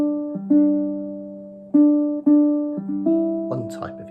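Ukulele chord melody playing the opening four measures of a jazz standard, clean plucked chords ringing in sequence with a few strums near the end, played alone and up close.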